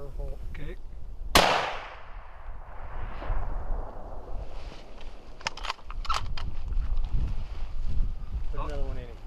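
Scoped rifle fired once at a hunting target, a sharp loud crack followed by a rolling outdoor echo and wind noise, with scattered clicks and faint rustling afterward.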